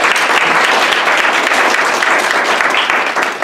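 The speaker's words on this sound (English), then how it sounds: "Let's give them a round of applause." Loud, close audience applause at a workshop, a dense, even burst of many hands clapping that lasts the whole stretch with only faint voices beneath.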